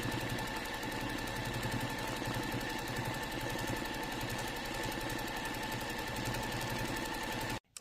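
Sewing machine running steadily for free motion quilting, a fast continuous rattling stitch drone, loud and close, stopping abruptly at the end.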